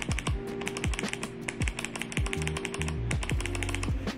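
Clicky Kailh Speed Bronze mechanical keyboard switches being typed on, a close, crisp rapid run of sharp clicks in uneven bursts, with no voice over them.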